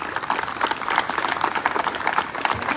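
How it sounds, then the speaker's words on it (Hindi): A stadium audience at a roll ball national championship event in Pune claps loudly and steadily, dense applause filling the space with no voices standing out. "मैं चाहूंगा कि आप सब लोग एक बार जोरदार तालियां बजाएं डॉक्टर संजय कोलते साहब के लिए"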